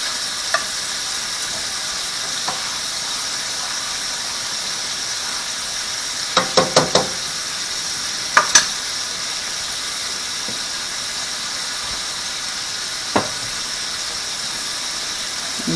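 Shrimp for lemon garlic pasta fry in a pan with a steady close sizzle and hiss, broken by a few sharp clacks and scrapes of a utensil stirring against the pan.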